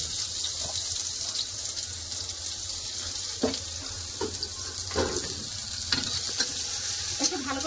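Garlic, green chilli and chopped onion frying in hot mustard oil in a kadai, a steady sizzle with occasional stirring scrapes and clinks, close and continuous.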